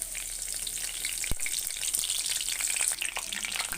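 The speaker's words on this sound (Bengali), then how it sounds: "এবার শুকনো মরিচ কুচি করে রাখা মরিচগুলি দিয়ে দিব তেলের মধ্যে" Chopped dried red chillies fry in hot oil in a wok, giving a steady, close crackling sizzle with a soft thump partway through.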